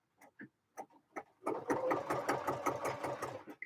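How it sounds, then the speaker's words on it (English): Sewing machine top stitching a pocket onto a skirt: a few short separate stitch bursts, then a continuous rapid mechanical chatter close up that runs steadily to the end. "I'm doing my second line of decorative top stitching now."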